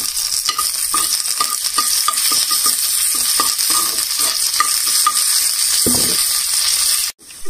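Curry leaves crackle in hot oil alongside cumin seeds and dried red chilies, a loud continuous sizzle with rapid popping and spitting, ending with a sudden brief drop.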